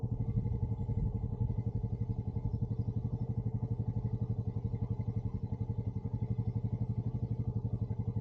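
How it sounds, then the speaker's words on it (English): A motorcycle engine left idling on a city street, a steady, close, rhythmic low chugging pulse that continues evenly with no talk over it. "The woman stopped her motorcycle and left it running there."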